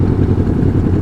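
Air-cooled Honda Monkey motorcycle engine running close by, a loud, steady low chugging idle filling the short moment with no talk.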